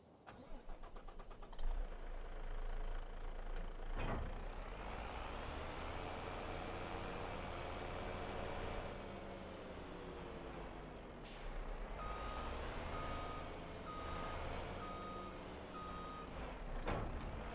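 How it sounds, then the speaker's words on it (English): A large truck idles in a driving game on narrow town roads, its engine droning steadily up close while intermittent reversing beeps chirp in a regular rhythm near the end, with occasional sharp air-brake hisses. "Right, let's bring the truck over."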